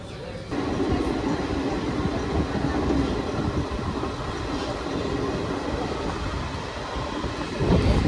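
The Doon Express pulls out of Durgapur station, a steady low rolling rumble of coaches and wheels that swells slightly near the end, heard from on board at moderate level.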